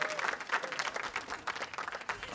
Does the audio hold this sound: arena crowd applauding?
yes